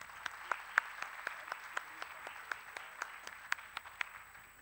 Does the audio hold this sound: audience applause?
yes